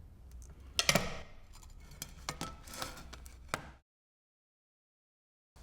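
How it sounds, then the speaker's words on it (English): Scored 6 mm thick glass snapped apart with pliers, giving a sharp crack followed by a run of small clicks and ticks of glass pieces, then silence. "glass that's 6 millimeters thick is scored using the same pressure one would use for 3 millimeter glass, but it opens more readily using pliers than by hand."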